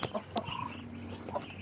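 A penned chicken clucks a few short, spaced times at moderate distance over a steady background hum, with no talking.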